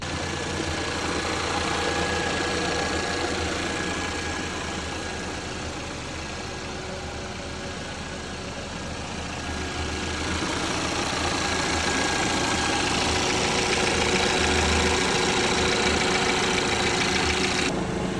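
A Ford Transit Custom van engine idles steadily for a long stretch during a head gasket repair, a continuous close, loud mechanical drone with a faint knocking undertone and no talk.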